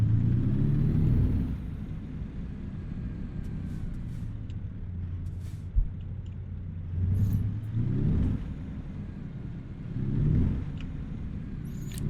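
A heavy truck engine in American Truck Simulator rumbles steadily and rises in pitch with each rev, dropping off at gear changes in three distinct swells, with faint clicks and no talking.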